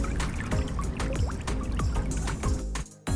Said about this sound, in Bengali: যে পানির শব্দ, এখন আমরা সাগরের মধ্যে ভেসে আছি